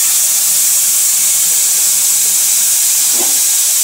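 Tamarind juice hits bitter gourd frying in a pan, giving a steady, loud hissing sizzle that holds evenly throughout with a faint bubbling crackle near the end.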